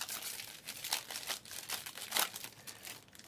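Foil wrappers of Panini Court Kings trading card packs are torn open, producing close, crisp crinkling and rustling that swells and fades in uneven bursts over a few seconds.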